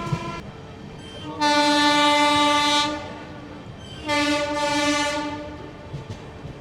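The Sealdah to Varanasi Amrit Bharat Express, train 22587, sounds two long, loud horn blasts over a steady rumble of rolling wheels.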